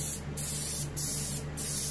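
Gold sparkle paint sprays onto a muskie being painted for taxidermy, three short airbrush-like bursts of hiss over a steady background hum.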